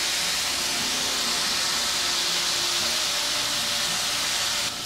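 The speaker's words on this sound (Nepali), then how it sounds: "अब यो अदुवा लसुन पनि यो गेडागुडीमा एकछिन भुटिनुपर्छ" Ginger and garlic fry with beans in a pan, giving a steady, loud, bright sizzle and hiss that holds evenly throughout without breaks, then cuts off briefly at the very end.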